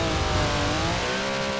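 A Ford car engine in Forza Horizon 4 revs hard and close, its tone sliding slightly as it pulls, loud and steady with no speech over it.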